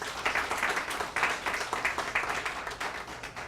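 An audience at a community technology empowerment event applauds for Dr. Burke. The clapping is dense and sustained, from many hands at a moderate distance, swelling and easing slightly in waves.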